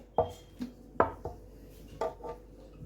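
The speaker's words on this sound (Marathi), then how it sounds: "आपण याला काटे चमच्याने प्रिक करणार आहे" A fork pricks thinly rolled spinach shankarpali dough on a board, giving a few sharp, separate taps at an unhurried pace, close by and fairly quiet, with no talking.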